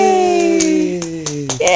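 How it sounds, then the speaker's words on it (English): A few sharp hand claps at home, spaced irregularly and close by, over a sustained sung or cheering voice. "Should we clap again?"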